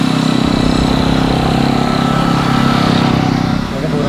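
A motorcycle engine drones loud and close in a steady, buzzing run, then eases off slightly near the end as it goes past.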